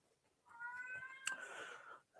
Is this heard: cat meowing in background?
yes